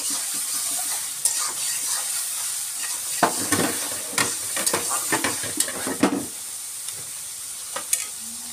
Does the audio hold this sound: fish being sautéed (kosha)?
yes